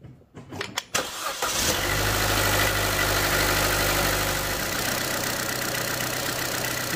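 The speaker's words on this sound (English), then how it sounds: "While we're waiting, we can start the engine." A Chevy Cruze 1.4 engine cranks with a few sharp clicks, fires up loudly, and then settles into a steady idle that runs alone for several seconds during coolant bleeding.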